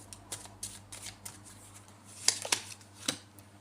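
Tarot cards are shuffled by hand in a quiet room, a string of soft riffling and snapping flicks close to the microphone, with a few sharper slaps near the end.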